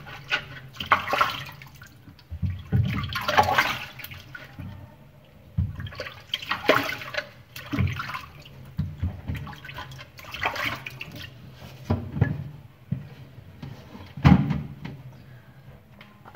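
Apples being washed by hand in water for homemade apple cider vinegar, with repeated splashing and sloshing bursts at an uneven rhythm, close and moderately loud.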